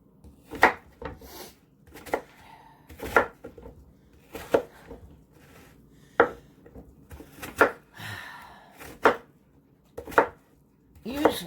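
Apples are diced on a cutting board for an apple betty pie, giving sharp, irregular knife chops spaced about a second apart, close and fairly loud in a quiet kitchen.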